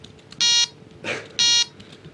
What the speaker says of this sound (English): So that's our annoying beep noise that is going to be played by the Python script.